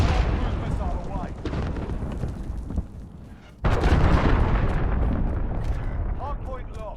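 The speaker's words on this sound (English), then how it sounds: "Cruise missile away." A cruise missile strike in Modern Warfare brings heavy, rumbling explosions that fill the whole span, with a brief dip before a fresh loud blast near the middle, and game voices sound over the top.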